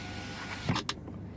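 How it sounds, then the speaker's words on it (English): A 2007 Citroen C4 Picasso's power window motor whirs briefly over a steady idling engine, ending with a soft thunk as the glass seats. "let's go ahead and shut the door and roll the window back up."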